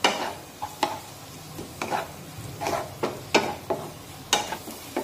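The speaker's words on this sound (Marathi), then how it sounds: "आता यामध्ये अर्धा चमचा आले लसूण पेस्ट टाकूया आणि आले लसूण पेस्ट साधारण 1 मिनिट छानपैकी यामध्ये परतून घेऊया।" Ginger garlic paste sautéed and stirred with onions in a pan while cooking green pea usal, a soft steady sizzle broken by repeated spatula scrapes at a regular rhythm.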